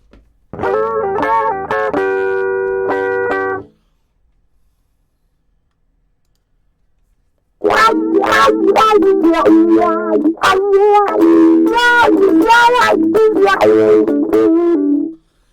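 Telecaster electric guitar played through a wah pedal: a short sustained chord, a pause of silence, then a funky choppy riff with sweeping, vowel-like tone changes.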